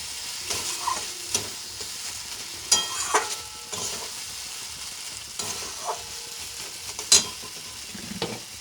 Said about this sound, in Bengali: দেখুন সুন্দরভাবে কষানো হয়ে গেল আমার